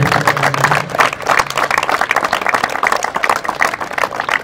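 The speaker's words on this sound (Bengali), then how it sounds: "জোরে একটা করতালি হবে।" A crowd at a women's cricket trophy unveiling event applauds loudly and steadily, with many hands clapping in a dense, sustained rattle up close. No one speaks over it.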